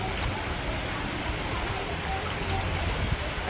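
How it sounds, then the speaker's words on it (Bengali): Steady rain pours down around a house during a sudden downpour, with water pooling across the surroundings; a dense, even hiss of falling drops fills the scene continuously. "কি সুন্দর বৃষ্টি দেখতে দারুণ লাগছে"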